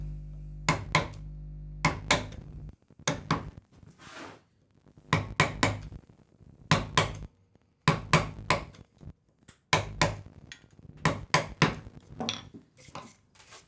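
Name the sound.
chisel cutting a housing dado joint in wood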